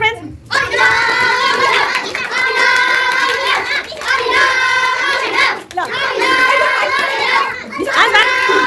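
Children cheering for their friends during a school Children's Day game, loud sustained group shouting and chanting in repeated waves with brief breaks, close and lively, with clapping mixed in.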